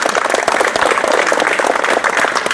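An audience at a village-themed talk event claps together in a dense, sustained round of applause, close and loud from start to finish, with no speech on top.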